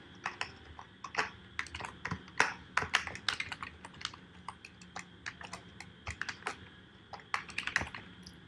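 Fast typing on a computer keyboard, dense bursts of crisp close key clicks with brief pauses, no voice over it.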